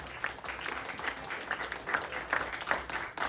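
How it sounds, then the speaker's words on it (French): Congregation applauding at a church worship and preaching service for a twelfth anniversary, dense steady clapping from many hands filling the room, close and fairly even throughout. "applaudissements pour ça"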